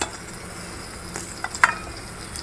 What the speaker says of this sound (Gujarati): પછી આપણે એને સાતળી લઈશું થોડી વાર માટે, એકદમ બદામી જેવી થવા દેવાની સાતળીને